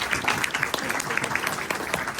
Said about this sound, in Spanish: Fuerte aplauso para la doctora Ana Santana.